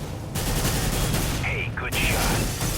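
Rapid gunfire from Counter-Strike: Global Offensive, a loud, dense burst of shots that runs almost without a break, while a person talks over it.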